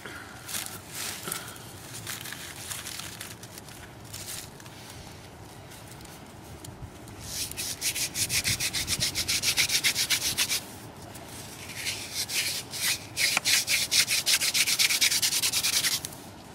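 A wooden hand drill spun against a willow board to start a friction fire gives steady, rapid rubbing and sanding strokes, close and continuous, growing louder and denser in bursts partway through, with no talk.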